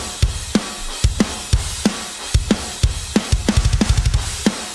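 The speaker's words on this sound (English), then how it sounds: "The drums sound like this." Programmed Steven Slate metal drums: punchy kick and snare hits in a steady groove, with rapid double-kick bursts toward the end, loud and dry with no other instruments.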